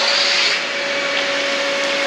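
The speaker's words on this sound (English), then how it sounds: "so far so good with the Dyson. Yeah, it still has suction" A Dyson vacuum cleaner from a mystery pallet of returned vacuums runs with a loud, steady whine and a constant airflow rush, unbroken throughout with no speech.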